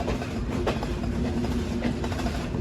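Rupsha Express pulling out of Jessore railway junction in Bangladesh, heard from on board: a loud, steady rumble of wheels and carriages with faint rhythmic clatter over the rails.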